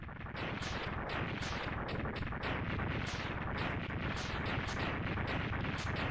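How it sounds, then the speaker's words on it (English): Big explosion in the video game Mega Man X2, a continuous loud roar of dense crackling blasts that holds steady for several seconds with no voice over it. "That's an awful big explosion."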